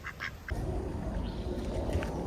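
Ducks quack at a reservoir in a canyon, a few short calls from nearby over steady outdoor background noise.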